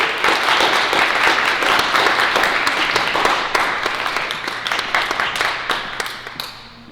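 An audience at a school committee awards night applauds its award recipients, loud sustained clapping from many hands that holds steady before gradually thinning and fading out near the end.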